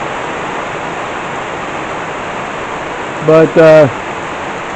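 Heavy rain falls steadily during a thunderstorm, a loud unbroken hiss filling the scene, with a voice speaking briefly near the end.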